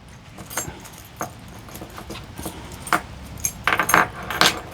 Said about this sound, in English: It's a whole bunch of keys.